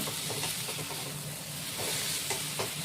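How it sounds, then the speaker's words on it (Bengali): Spice paste with taro and fish sautés in a pan, a steady close sizzle and hiss broken by the scrape of stirring, with no voice over it. "এরকমভাবে পুরো মশলাটাকে দিয়ে কষাতে হবে"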